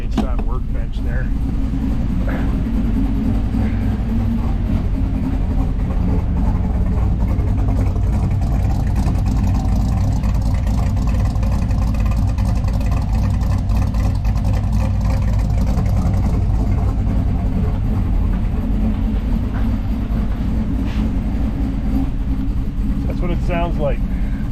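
A 1983 Pontiac Parisienne engine idles steadily in gear against a workbench in a garage, a constant low rumbling drone that holds its pitch throughout, with a voice talking over it.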